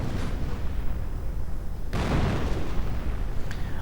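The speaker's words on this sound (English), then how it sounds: "Lots of heavy artillery right in fact against this point. Again, heavy mortar fire." Heavy mortar and artillery fire in a Company of Heroes mod battle, a dense rumbling barrage with a sharp loud burst near the middle, continuous booming under the din without speech.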